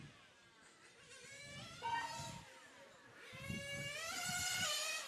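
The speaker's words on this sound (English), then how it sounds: "When there's just one car, you can finally hear the gear changes." A 1/8 scale RC racing car at a European track championship whines through its engine with audible gear changes, the pitch rising and dropping as it runs alone at moderate distance, steady and fairly faint.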